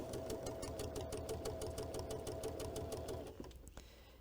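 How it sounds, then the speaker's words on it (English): A sewing machine stitches a straight line along pom-pom trim, a steady close mechanical hum with rapid even needle clatter for several seconds before slowing and stopping. "I'm going to just sew a straight line"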